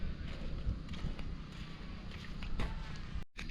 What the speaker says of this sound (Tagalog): Malakas po ang hangin, tapos po ay paambon-ambon.